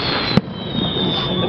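A firework at a July 3 city fireworks show in Norwalk, California, bursts once as a single sharp bang over a steady crackling outdoor background.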